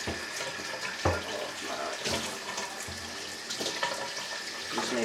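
Tap water runs steadily over a paintball hopper with its electronics removed, splashing as it is rinsed in a sink, with a few louder gushes as the hopper shifts under the stream.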